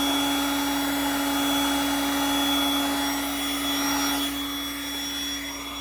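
Heat gun blowing steadily on sun-bleached UTV plastic, a constant close whooshing hum with a fixed motor whine, unbroken for the whole stretch with no talk over it.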